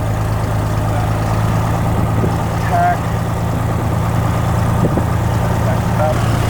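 A small aircraft engine idles at about 1,000 RPM during a preflight run-up, a steady close low drone with even harmonics, while a person talks over it.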